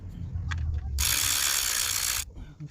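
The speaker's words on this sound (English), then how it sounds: "And I'm going to remove this 10mm right there." A ratchet works loose a 10mm bolt on the alternator of a 2008 Honda Accord 3.5 V6, a rapid close clicking burst lasting about a second with faint talk around it.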